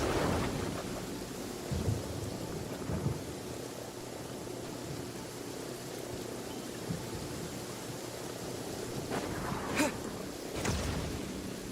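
Rolling thunder from a lightning strike in a video game, a steady rumble under rain-like noise with a few sharper cracks near the end, fairly loud and continuous.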